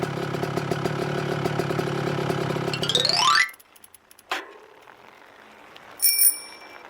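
Animated bicycle sound effect in a children's cartoon: a buzzing whir ends in a quick rising sweep, then a short clunk and a bright bicycle bell ring near the end, with no one speaking.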